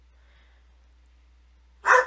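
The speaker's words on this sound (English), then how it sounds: "I'm not sure what they're barking at though." A dog looking out a window indoors gives one short, sharp bark at the end after near silence.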